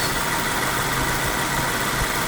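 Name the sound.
2023 Subaru Forester engine idling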